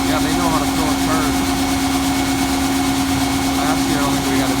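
A tractor engine idles while warming up after a cold start, a loud, steady drone with a strong constant hum and even vibration that holds unchanged throughout.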